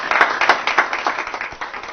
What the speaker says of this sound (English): welcome these potential CEOs by giving them a hand clap